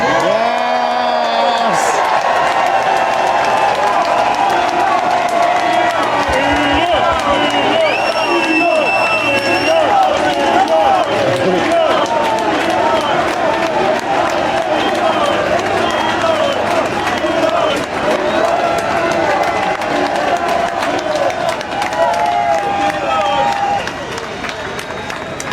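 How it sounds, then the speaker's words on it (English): A large outdoor crowd at a street march in Britain roars, cheers and whoops continuously, with applause mixed into the din, while amplified speech and shouting carry over the noise. "I want the loudest roars and a round of applause to Elon Musk."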